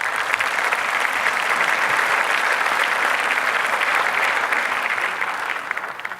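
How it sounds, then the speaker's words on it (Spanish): Loud, dense applause from a large audience at a gastroenterology conference welcome in Puebla, a continuous roar of clapping that holds steady and begins to fade near the end. "Para ellos también quisiera solicitarles un fuerte aplauso."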